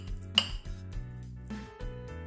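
A spoon scrapes and taps against a bowl while dumpling filling is stirred into a vinegar seasoning sauce: soft clinks and light scraping, close and quiet, with one sharper knock early on and no talking.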